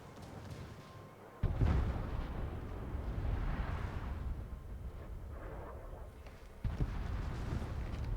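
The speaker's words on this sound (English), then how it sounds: "Moskva salvo's now coming in towards the Alvaro as well now" Heavy battleship gunfire from the Moskva in World of Warships: a deep booming salvo breaks out, followed by a long rumbling tail and another heavy blast, loud over a continuous low battle din.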